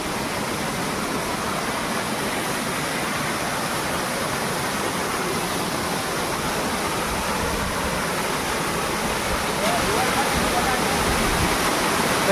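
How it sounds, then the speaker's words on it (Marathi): A waterfall roars in a steady, dense rush of falling water that fills the whole stretch without a break, loud and close, with voices faintly beneath it. "बघा मित्रांनो किती भारी आहे धबधबा आमचा."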